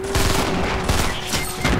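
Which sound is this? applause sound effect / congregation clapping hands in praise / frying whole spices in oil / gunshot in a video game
gunshot in a video game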